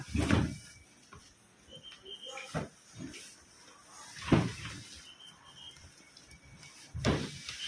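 A tool cabinet is lifted out of its foam-padded shipping box in a series of scattered thumps, scrapes and cardboard rustles, with louder bumps separated by quieter handling noise.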